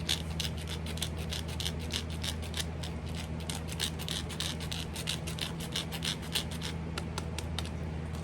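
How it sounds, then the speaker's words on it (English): Parmesan cheese grated by hand, a rapid run of quiet scraping strokes over a steady low hum, close by, with no talking. "So let's get some grated up."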